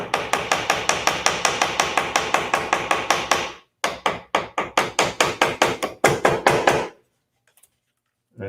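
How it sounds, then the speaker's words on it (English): A small hammer taps pieces into a hole during a home door-hardware repair, giving a steady run of sharp, close, evenly spaced knocks that pause briefly, then resume in quicker bursts before stopping. "Then I just grab a little hammer and tap them"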